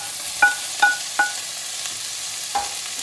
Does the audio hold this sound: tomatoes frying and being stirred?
yes